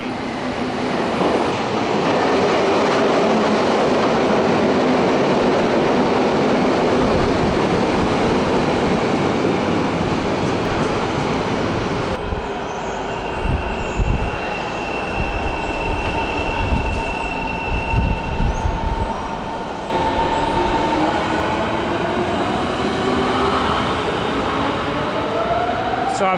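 A train on the four-track Stadtbahn railway through central Berlin rumbles past at close range with squealing wheels and rail clatter, changing character partway through as it moves along the line.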